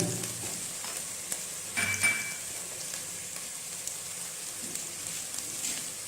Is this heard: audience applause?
no